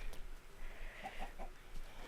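Chickens cluck in the Minecraft video game, short faint clucks scattered over a quiet background.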